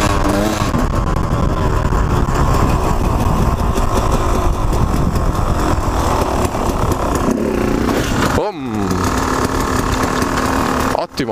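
A supermoto motorcycle engine drones loud and close during wheelie practice, revving steadily and then dipping with sharp throttle changes near the end, with wind buffeting. Speech is also present.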